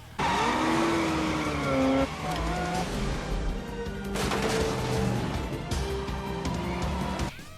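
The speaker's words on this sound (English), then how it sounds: "Sean Connery is driving the Hummer and Nicolas Cage is driving the Ferrari F355 Spider" The Hummer and Ferrari F355 Spider car chase through the streets of San Francisco from the film The Rock, with dense engine roar, squealing skidding tires and crash impacts under a film soundtrack, loud throughout.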